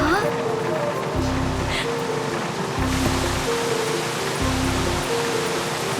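Heavy rain pours down in a steady, dense wash of noise, with low rhythmic swells and a voice speaking briefly over it.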